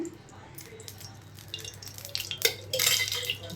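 A pan set down on the stove for mint chutney, followed by oil being added, with soft clinks and a faint rising sizzle over a low steady hum, close and fairly quiet.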